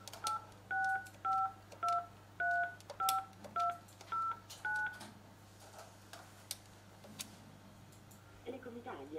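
Telephone keypad dialing tones, a rapid series of about ten even DTMF beeps in a steady rhythm, calling a disconnected Italian office number, followed by a faint line hum and a brief clatter at the end.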